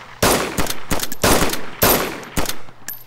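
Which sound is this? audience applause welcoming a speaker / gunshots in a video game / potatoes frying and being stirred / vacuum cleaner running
gunshots in a video game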